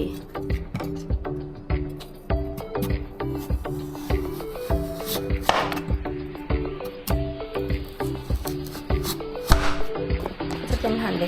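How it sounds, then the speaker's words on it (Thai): Repeated knife strokes chop vegetables into strips for kimchi against a board in a quick, steady rhythm, close and clear, with faint background noise. "นี่เราจะหั่นแบบเป็นเส้นๆเส้นๆ"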